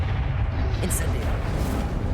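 Incendio fire spell cast in Hogwarts Legacy, a loud, dense whooshing roar of flames with a low rumbling burst, sustained throughout under a voice speaking.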